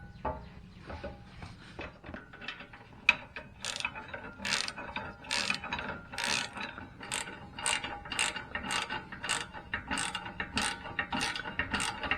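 A ratchet wrench tightens bolts while a winch is installed on a Ford F150, its rapid clicking bursts repeating steadily and close by with short pauses between strokes, with no talking.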